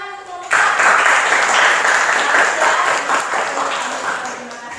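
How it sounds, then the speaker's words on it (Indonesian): A voice speaks briefly, then a classroom bursts into applause for a presenting group, holding strong and slowly tapering, many hands clapping at once. "berikan tepuk tangan untuk kelompok"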